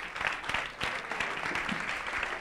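Audience applause at a robotics speed-racing competition event: continuous clapping from a crowd, steady and fairly close, lasting the whole moment with no speech over it.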